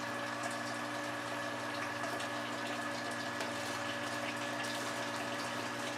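A pump steadily fills liquid for a bread whiskey mash, a constant droning hum with a rushing watery flow, even and unchanging throughout.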